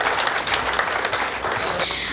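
Dense, loud applause from a poetry recital audience fills the whole short moment, steady and close with no talk over it.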